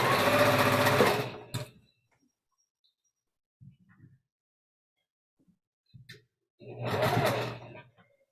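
Sewing machine stitching quilt pieces in two loud, close bursts of rapid whirring with a long quiet gap between them, broken only by faint handling clicks.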